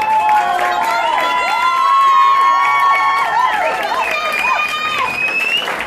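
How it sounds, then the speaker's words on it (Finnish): An audience at a singing contest final cheers and whoops for the finalists, with a loud, sustained crowd roar and shouting throughout; a presenter's voice carries over the noise. "Vielä kerran suuret aplodit kaikille meidän 10 finalisteille."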